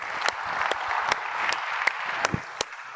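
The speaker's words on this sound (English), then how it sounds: "A big round of applause from the audience" Sparse, rhythmic clapping at a medical conference opening ceremony, sharp individual claps landing roughly every third of a second over a soft hum of crowd noise.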